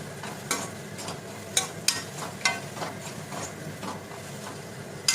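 Okra sizzles softly in a pan while a spatula scrapes and stirs, giving several sharp clinks and scrapes at irregular intervals.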